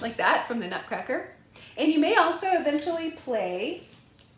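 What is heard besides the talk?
None of the usual background noises is heard.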